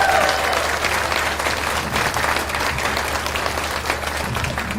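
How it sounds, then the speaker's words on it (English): Clapping fills the room at a grand opening celebration as the crowd applauds a donor, a loud, sustained patter of many hands with a low steady hum beneath it. "Let's give it a round of applause"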